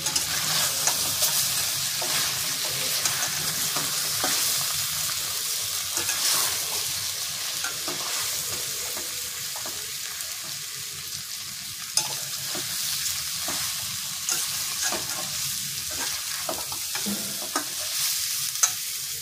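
Steady, loud sizzling of red chilies frying in a pan, with occasional scrapes and stirring clicks throughout, and no talking.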